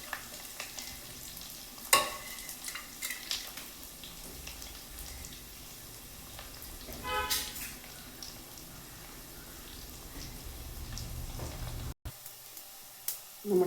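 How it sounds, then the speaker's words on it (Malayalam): Ginger, garlic, green chilli and onion are sautéed in a pan for a fish curry, giving a steady low sizzle with intermittent scraping and stirring clatter up close and a louder knock now and then. "നമുക്ക് ഇഞ്ചിയും വെളുത്തുള്ളി പച്ചമുളകും ഉള്ളിയും കൂടെ നമുക്ക് ഒന്ന് വഴറ്റാവേ."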